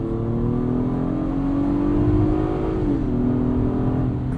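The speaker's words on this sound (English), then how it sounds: "this V6 just sings" A 2022 Acura MDX A-Spec's V6 engine accelerating from inside the cabin: a smooth, steady rising engine note that dips briefly at a gear change, then keeps pulling.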